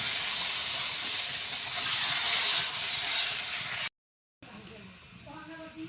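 Water poured into a hot pan of spiced vegetable curry with turmeric, chili powder and green chilies on a village clay stove sets off a loud, continuous steam hiss that swells, then cuts off abruptly before a brief voice is heard.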